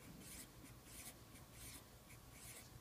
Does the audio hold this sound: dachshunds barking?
no